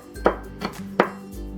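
A knife mincing on a cutting board while making salt and pepper pork loin strips, three crisp close chops in an uneven rhythm with a quiet pause between them.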